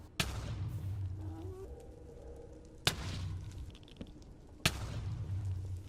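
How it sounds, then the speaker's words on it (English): Three sharp Minecraft explosions in a realism-modded survival world, each a sudden loud blast followed by a rumbling low tail, spaced a couple of seconds apart over quiet ambient background. "I'm going to just play all the explosions."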